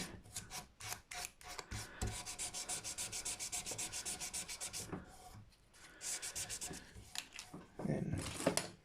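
Sandpaper of 400 grit rubs back and forth over a plastic guitar nut, a fast run of short rasping strokes, close and steady, with brief pauses between bursts.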